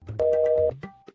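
A telephone call is placed, with a steady electronic tone lasting about half a second among muffled handling sounds and short bursts of background noise.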